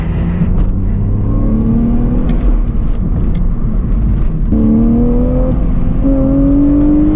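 A manual BMW Z4's engine revs and pulls hard, its pitch climbing steadily through two gear changes, loud and close with no talking.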